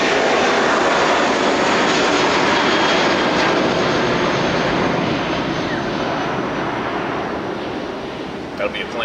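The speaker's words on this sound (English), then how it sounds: "that'll be a plane." Propeller airplane droning steadily overhead, a loud broadband engine roar that holds for most of the span and eases slightly near the end.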